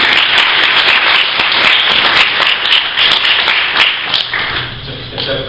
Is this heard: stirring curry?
no